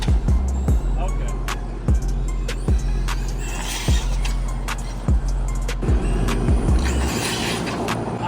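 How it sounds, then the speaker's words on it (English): A modified Traxxas Mudboss RC truck swapped to 4S power with a Slash setup rips through repeated loud motor surges as it pulls wheelies, each burst close and punchy, with people talking in the background. "I've never seen a Mudboss wheelie like this."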